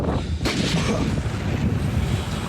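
A heavy artillery boom bursts in sharply near Bakhmut, followed by rumbling echo and buffeting wind noise.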